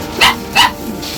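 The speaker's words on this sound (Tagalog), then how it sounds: "Malaki ng aso mo. Nagkahol-kahol na." A large dog barks twice in quick succession, sharp and fairly close, with a fainter third yip trailing after, outdoors at a house during heavy rain.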